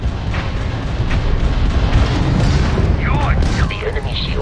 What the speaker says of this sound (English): we can lock in to fire a homing missile